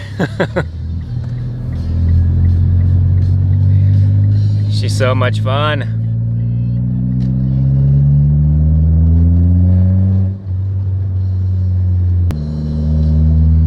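A Mitsubishi Lancer Evolution's engine revs up loudly and holds at a high, climbing drone before easing off, with a brief spoken remark over the roar.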